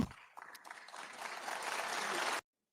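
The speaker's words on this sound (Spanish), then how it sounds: "Y encima la aplauden." Applause from an assembled audience at a European political session, a dense wash of clapping that builds and holds steady for about two seconds before cutting off abruptly.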